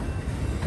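A very long freight train rolls through a railroad crossing, a steady dense low rumble of wheels on rails filling the short stretch without a break.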